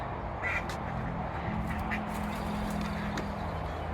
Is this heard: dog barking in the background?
no